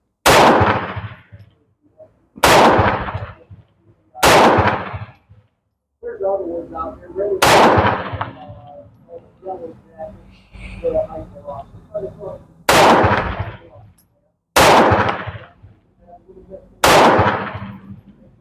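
Crvena Zastava M70 7.65mm pistol fired at a range, eight sharp loud shots spaced a couple of seconds apart with ringing decay, one longer gap filled by ambient noise and faint voices.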